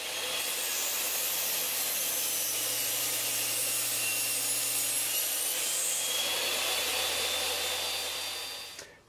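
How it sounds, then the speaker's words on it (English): A circular saw cuts through a piece of cedar on a shop-built cutting table. It makes a loud, continuous rasping whir that holds steady for most of the clip before spinning down at the end. "So that cut came out nice and shiny, even though this is just a piece of cedar."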